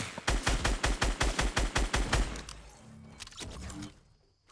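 Gunfire in a Fortnite Battle Royale match: a fast, evenly spaced string of about a dozen loud, close shots, then scattered fainter shots and clatter before everything drops away.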